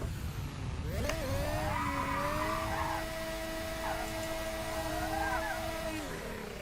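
A modern Formula 1 car lapping Sebring in a racing simulator, its high engine note sustained and steady with a brief shift and a slight dip before fading near the end; loud and alone with no talk.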